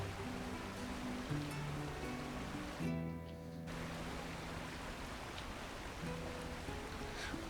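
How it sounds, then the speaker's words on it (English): A waterfall in Red Dead Redemption 2 gives off a faint, steady broadband rush of falling water, continuous and distant-sounding, with a low tonal drone briefly breaking through midway. "Looking straight down the waterfall."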